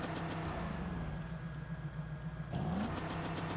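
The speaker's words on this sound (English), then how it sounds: "they have changed the engine sound to sound good now" A car engine in the video game Fortnite hums at a steady, smooth idle, then briefly rises in a short rev near the end, clean and close with no voices.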